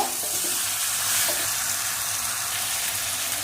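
Chicken stir-fried in a pan, a loud continuous sizzle with steady hiss and a few soft scraping strokes, close up and alone.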